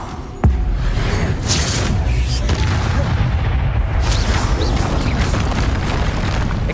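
The Confringo spell explodes in Hogwarts Legacy: a sudden deep boom bursts out, then a dense, roaring wash of crackling noise continues steadily at full loudness.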